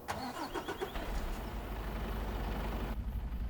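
A Mercedes truck engine from a video game truck pack starts with a few quick cranking pulses, then settles into a steady, rumbling low idle, loud and close with no talking.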